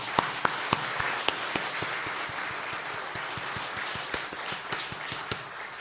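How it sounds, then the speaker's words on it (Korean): A church congregation at a training graduation and commissioning service applauds in encouragement, a steady roomful of clapping punctuated by a few sharp, loud individual claps standing out near the front. "서로 격려의 박수를 한번"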